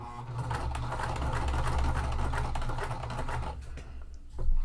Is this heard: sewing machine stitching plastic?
yes